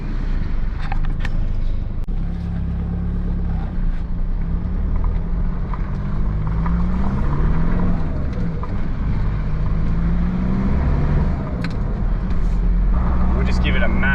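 An Isuzu D-Max with freshly replaced brake shoes and drums drives steadily, its engine and road rumble loud and continuous, then slows under a hard brake application, with people talking inside the cab throughout.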